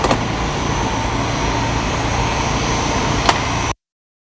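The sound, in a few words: truck cab fan running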